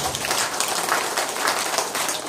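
An audience at a history forum breaks into steady applause, a dense, even patter of clapping that holds for the whole moment.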